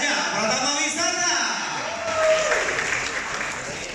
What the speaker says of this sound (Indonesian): Kita berikan aplaus buat PT Raja Pratama Wisata.